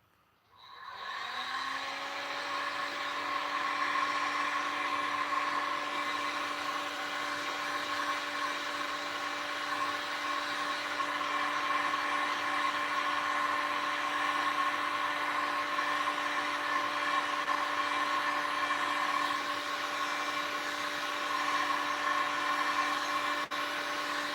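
A heat gun blows steadily and loudly in a leatherworking setting, a constant whirring hiss with a fan tone that switches on at the start and holds unchanged for over twenty seconds, no talking.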